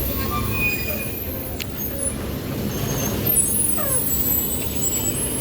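A bus pulls out of a busy bus terminal with a steady low engine rumble, a brief air brake hiss, and faint squeaks in the background.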